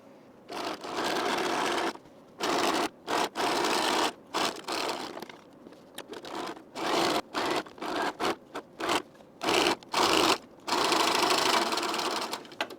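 A sewing machine runs a 3/8 inch seam along the side of a T-shirt in many short, loud bursts of rapid stitching with brief pauses between them, close by and with no voices.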